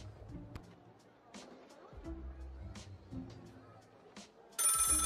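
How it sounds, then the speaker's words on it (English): An in-game telephone rings in Lil' Guardsman, a bright trilling ring that bursts out loud near the end after stretches of background music and game sounds. "Oh, the phone's ringing."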